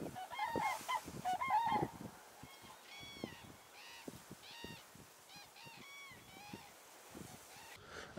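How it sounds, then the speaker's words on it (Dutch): Common cranes in the Camargue give repeated trumpeting, honking calls, several birds at a moderate distance, sounding in a loose irregular series over quiet outdoor background noise. "dan hoor je die roep van de kraanvogels"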